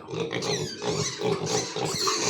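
Pigs being raised on a small farm grunt and squeal steadily and fairly loud, with several animals close by throughout the short clip and no pauses.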